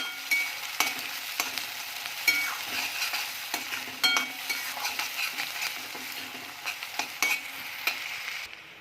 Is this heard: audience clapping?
no